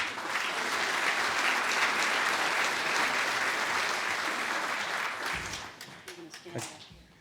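Sustained audience applause at an annual meeting and legacy celebration, dense and steady for about five seconds before thinning into scattered claps and fading, with a voice briefly audible near the end.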